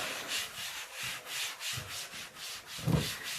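Greasy dishes scrubbed by hand, a close rhythmic rubbing of about six even strokes with a brief soft knock near the end.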